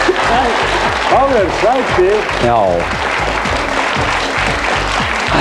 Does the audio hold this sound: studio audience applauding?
yes